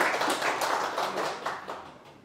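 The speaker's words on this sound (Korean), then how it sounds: "박수 한번 주시죠" Short burst of applause from the audience at a book concert, clapping in slightly rhythmic waves that gradually softens.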